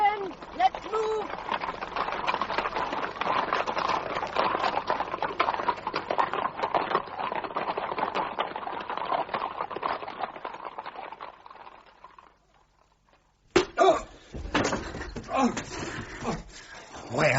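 Horse hooves clip-clop steadily through a 1970s horse-racing crime radio drama, a continuous mid-level rhythm with dense background sound, falling away near the end before a burst of voices and noise returns.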